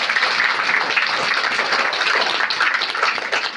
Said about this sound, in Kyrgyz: азыркыга чейин буга бир кол чабып коет